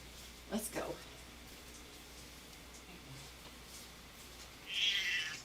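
A cat meows twice indoors: one short quiet meow near the start and a brighter one at the end, separated by soft room hiss.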